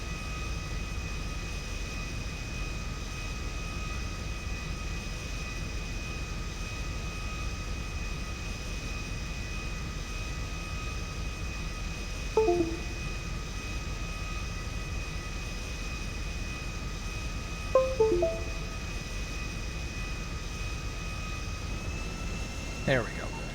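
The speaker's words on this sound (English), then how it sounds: "I end up breaking this plane." An airplane engine in the video game GTA Online drones steadily and fairly quietly throughout, broken by a few brief clicks and knocks.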